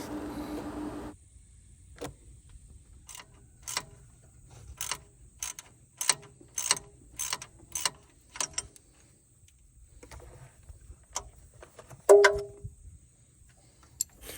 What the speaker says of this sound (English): you can put your socket in as I've done here, and then you can loosen that bolt